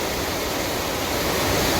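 Creek water rushes steadily down a small waterfall along a hiking trail, making a loud, continuous broadband roar close by, with no voices over it.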